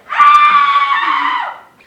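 A woman on stage in a winter high-school drama lets out a single loud, sustained scream that lasts well over a second, close and isolated.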